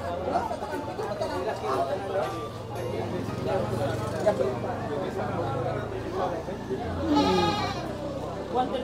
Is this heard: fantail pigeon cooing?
no